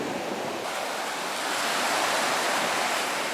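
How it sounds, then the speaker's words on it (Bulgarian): Sea waves at a beach wash in with a broad, hissing surge that swells louder partway through, heard fairly close with wind buffeting the microphone and no voices. "Обаче има бая вълни."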